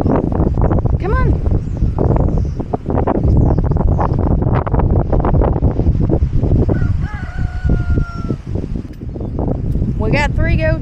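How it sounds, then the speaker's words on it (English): Strong gusts batter the microphone outdoors on a windy farm, a loud, continuous low roar running through the whole stretch, with roosters crowing and other fowl calling over it and a muffled voice now and then. "It is really windy today, and I know you can't hear me with all of the wind"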